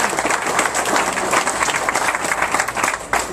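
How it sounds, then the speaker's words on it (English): An audience gives a round of applause as a volunteer from the front row joins the speaker, a brief, lively burst of many hands clapping, loud and continuous. "Give a round of applause,"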